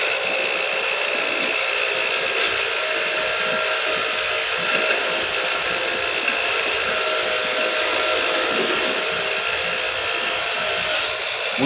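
A steady, loud high-pitched whine of a power tool, likely a grinder, cleaning up a MIG weld bead runs continuously and close without pause.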